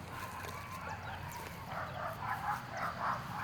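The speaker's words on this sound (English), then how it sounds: "Now our dogs are barking" Dogs bark in a garden on Memorial Day, a series of distant yapping barks rising in the second half over a steady outdoor background.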